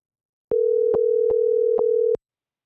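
A telephone tone sounds while a call is placed, a single steady pitch held for under two seconds with faint clicks breaking through it at intervals, then cutting off.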